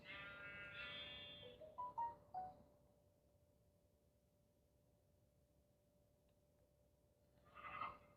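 A sheep in the video game Minecraft bleats, with one wavering bleat at the start, a few short clicks after it, a long near-silent stretch, and a brief second bleat at the end, all over a faint hum.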